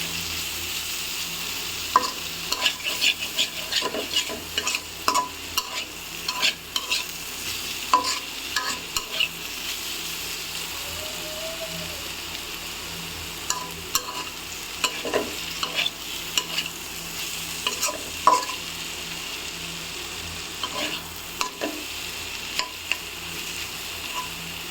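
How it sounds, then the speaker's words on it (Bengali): A spatula stirs pointed gourd (potol) frying in a pan, with scattered scraping strokes over a soft, steady sizzle and no talking. "ঢাকনাটা উঠে আর একটু নেড়ে দিব"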